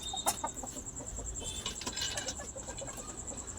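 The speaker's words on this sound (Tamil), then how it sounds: "இங்கே ரெண்டு சேவல் இருக்குது" Chickens cluck and a rooster calls amid steady farmyard noise, with a constant high-pitched whine running underneath, from a rooftop coop.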